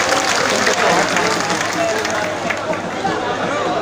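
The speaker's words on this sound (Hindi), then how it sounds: "आप लोग जो यहाँ पर इकट्ठा हुए हैं उसके लिए एक बार जोरदार ताली मारिए" Loud, steady applause from a crowd gathered at a protest at Jantar Mantar in Delhi, a dense wash of clapping with murmur and a voice mixed in throughout.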